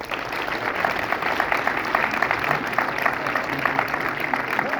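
Audience applauding in a Paris cinema at a film premiere screening, a steady wash of clapping from a packed room that holds at an even level throughout, with no talk over it.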